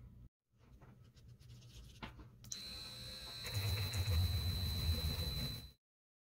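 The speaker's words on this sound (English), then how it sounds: "And I've got my Dremel set to the lowest speed." Dremel rotary tool at its lowest speed polishing a Petoskey stone with toothpaste, faint scraping and handling at first, then a steady high whine from the spinning tool that cuts off abruptly.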